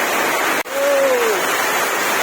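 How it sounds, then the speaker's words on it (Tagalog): Heavy typhoon rain pours down as a steady, loud hiss, with a brief tonal sound rising over it. "Malakas ng ulan."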